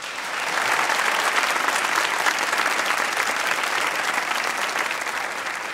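A television studio audience breaks into applause on a comedy talk show, a full, even roar of many clapping hands rising quickly and holding steady to the end.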